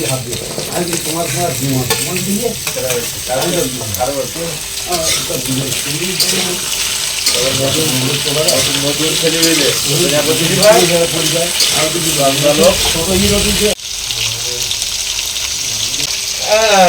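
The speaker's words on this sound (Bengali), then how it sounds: "পেঁয়াজ রসুন কাঁচা লঙ্কা মশলাটা বেশ লাল করে ভেজে নেওয়ার পরে কচুরমুখিগুলো দিয়ে দিচ্ছি" Taro roots sizzle and fry in a pan with onion, garlic, green chilli and masala, stirred continuously with a steady crackling hiss and scraping, fairly loud and close throughout.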